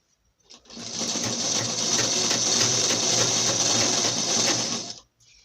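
A sewing machine runs steadily, stitching a falls strip onto the edge of a saree, a close, continuous mechanical whir for about four seconds that stops abruptly.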